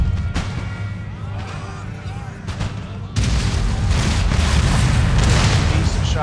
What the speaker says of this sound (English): Decent shots with the artillery.